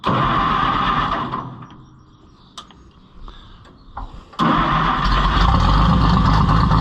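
A Co-op tractor engine cranks, falls briefly quiet with a few clicks, then catches and settles into a loud, steady, rumbling idle close by.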